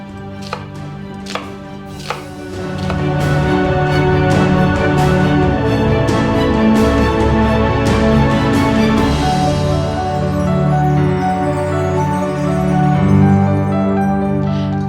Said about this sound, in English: So for the main stew, we're going to start by blending our onions.